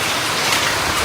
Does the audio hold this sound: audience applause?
no